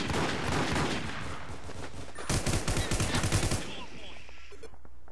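Automatic gunfire in the online shooter War Inc Battlezone: a rapid burst of shots cuts in midway and rattles for about a second, over a dense background of other game sounds.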